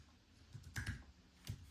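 A few quiet keystrokes clatter on a computer keyboard at a Mac setup, with two or three soft clicks spaced apart in an otherwise hushed room.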